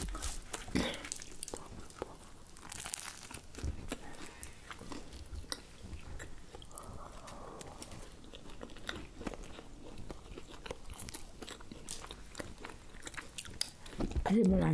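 Castella sponge cake is dipped in cream and eaten close up, with soft, repeated bites and wet chewing throughout, and a voice talking between mouthfuls.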